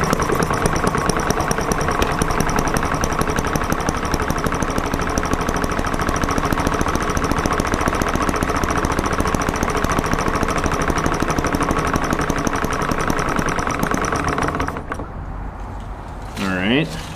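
An ET8 engine cranked and run in cold weather, a loud, close, continuous knocking drone that holds steady for a long stretch, then drops off abruptly near the end.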